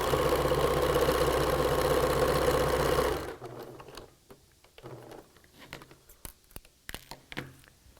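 A sewing machine runs steadily for about three seconds while stitching layers of a T-shirt quilt block, then stops, leaving faint fabric handling clicks and rustles.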